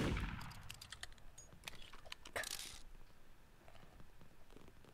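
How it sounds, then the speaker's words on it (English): Gunfire in the Roblox-style game Murder Mystery 2: a quick burst of sharp, crackling shots in the opening seconds, then scattered fainter pops over low background noise. "I'm hearing gunshots."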